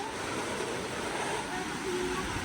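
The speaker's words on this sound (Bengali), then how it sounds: "বাইরে প্রচণ্ড বৃষ্টি হচ্ছে" Heavy rain pours outside during a boat trip in the Sundarbans, a loud, dense, continuous hiss and rush of water that fills the whole stretch without a break, with a voice faintly under it.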